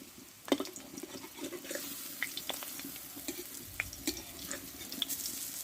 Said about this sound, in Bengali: ফুলরিগুলো এক পিট ভাজা হয়ে গেছে এবার আমি উল্টিয়ে দেবো